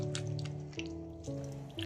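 Washed raw chicken pieces are squeezed by hand, giving a few soft wet squishes and drips of water beneath steady background music.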